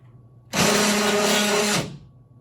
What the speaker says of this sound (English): Now I've got all 4 motors connected to the microcontroller, so let's see everything moving together all at once.